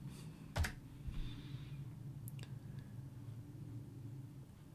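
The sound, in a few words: typing on computer keyboard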